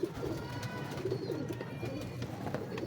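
A large, strong pigeon cooing in low, soft repeated coos, close by and steady, with a faint background hum and no speech.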